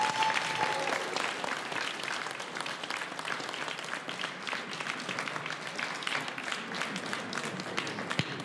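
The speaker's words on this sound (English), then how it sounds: "Big round of applause for this team." A school awards ceremony crowd gives steady, full applause for a team that set a school record, a dense wash of clapping that holds evenly for several seconds with no clear voices on top.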